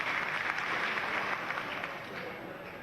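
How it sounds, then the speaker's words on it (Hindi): Sustained applause from an audience at a political rally in Bhopal, welcoming a state party president; a steady, dense wash of clapping holds at even loudness throughout with no talking over it. "जोरदार ताली बजाकर हमारे प्रदेश अध्यक्ष का अभिनंदन करते"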